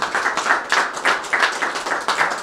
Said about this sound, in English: Let's have a big round of applause for the Softball Hall of Fame